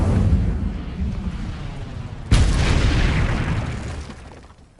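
Incendio fire spell cast in Hogwarts Legacy, a rumbling roar of flame that jumps into a sudden loud burst midway, then sustains and fades away.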